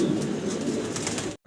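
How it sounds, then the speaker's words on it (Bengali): A yellow pair of Lahori pigeons, a male and a female, gives a short burst of close, loud, throaty cooing. The sound lasts just over a second and then cuts off abruptly. "মাশাআল্লাহ ইয়েলো কালারের আমরা একটা জোড়া দেখাচ্ছি, লাহোরি কবুতর"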